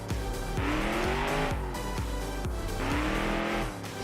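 A loud racing car engine in BeamNG.drive revs up and down repeatedly through gear shifts, rising whines cut by drops, with tires squealing along the way.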